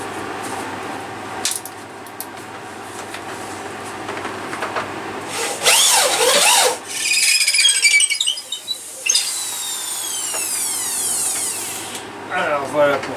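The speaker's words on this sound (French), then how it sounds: "Donc je vais percer carrément en travers" Drill boring through the wood of a robin nest box being made, several grinding bursts of whirring and rasping that rise and fall in pitch, close and loud.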